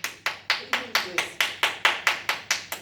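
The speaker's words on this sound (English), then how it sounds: "the noise of the clapping" Cupped hands clapping rhythmically against a leg in physiotherapy, about a dozen evenly spaced, sharp, close slaps in steady tempo, with brief talk between the first strikes.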